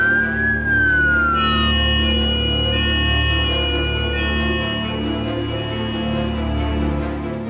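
An ambulance siren wails loud and close, its rising and falling electronic tones holding steady for several seconds with no voices over it.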